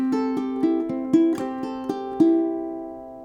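Ukulele plucking the first bar of the SpongeBob SquarePants theme with a swung feel, about ten bright, close notes in a bouncy rhythm, the last one left ringing, with no voice.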